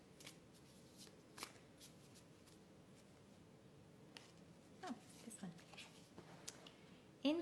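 Oracle cards are shuffled by hand in quiet, soft riffling bursts, with sharper flutters near the end. A voice speaks faintly in the background.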